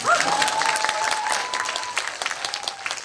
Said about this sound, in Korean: 이정재 배우 박수 좀 주세요